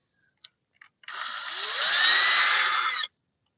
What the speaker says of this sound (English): All right, gotta drill slow and easy here.